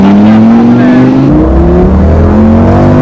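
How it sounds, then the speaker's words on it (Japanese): A Lamborghini Gallardo engine pulls hard from a standing start, very loud and close, its note rising steadily through a gear change with a dry, quick-revving character. "なんかエンジンがすごい乾いた感じでレスポンスも良くて吹き上がりも早いな"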